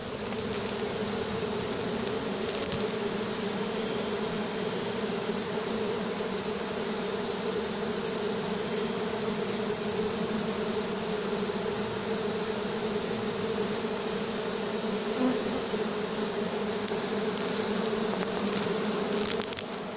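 A honeybee swarm being collected into a cardboard box at Soignolles-en-Brie, France, buzzes loudly and steadily throughout, a dense, continuous hum of many insects close by with no talking.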